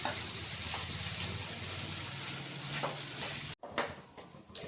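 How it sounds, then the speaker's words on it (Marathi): Grated sweet potato sautés in ghee in a pan over a medium flame, giving a soft continuous sizzle with occasional stirring scrapes and a brief cut near the end. "हा किस आपल्याला याच्यामध्ये 5 मिनिटं परतून घ्यायचा आहे"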